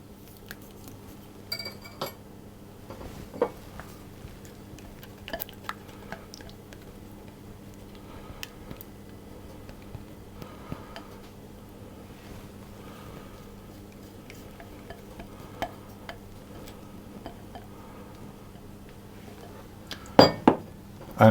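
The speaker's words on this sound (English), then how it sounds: "And I'm going to mix that around until it's just all combined." Light clinks and taps of a utensil against a bowl while wet ingredients are folded into a flour mixture for raspberry brownie bars, sparse and irregular, with a sharper clatter near the end.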